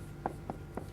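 Pen or chalk writing a math definition by hand, three quick close strokes tapping and scratching against a quiet background.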